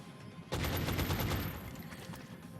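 A gunshot in XCOM: Enemy Within strikes with a sudden loud crack, then a dense burst of rapid reports and a ringing tail that fades over about two seconds.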